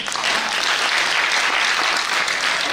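Dense, loud applause from an audience at a Hindi poetry recital, continuous and even for the whole stretch with no speech over it.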